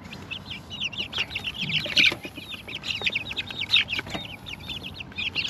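Chickens cluck busily and continuously inside their wrapped coop during winter in Taiwan, a dense overlapping chorus of close, rhythmic clucks with occasional louder squawks.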